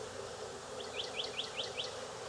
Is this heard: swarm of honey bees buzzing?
yes